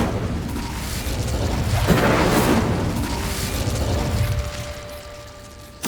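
Incendio fire spell in Hogwarts Legacy, a sustained roaring whoosh of flame with mechanical clatter, swelling to a peak midway and fading before a sharp click at the close.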